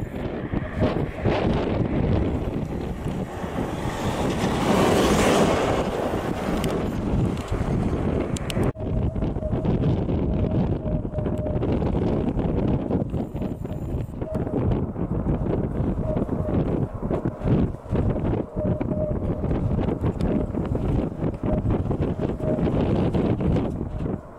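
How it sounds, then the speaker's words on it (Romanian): Strong wind buffets the microphone at a parachuting airfield in Bacau, Romania, a loud, continuous rumbling roar with gusting swells, peaking early and then roughly steady. "Bate vântul ăsta."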